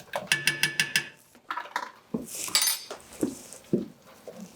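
A spoon stirs a pot of soup with heavy whipping cream, crème fraîche and Parmesan, opening with a quick rhythmic series of metallic clinks, then slower scrapes and knocks against the pot.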